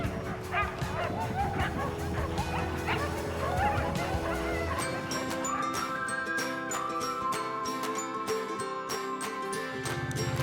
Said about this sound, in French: Romain et ses chiens de traîneau sont les premiers à avoir traversé la chaîne des Pyrénées.